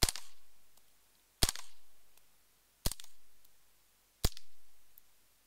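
Four sharp simunition training rounds fired from a gun, spaced evenly about a second and a half apart, each a loud close crack with a short decaying tail and no talking between shots.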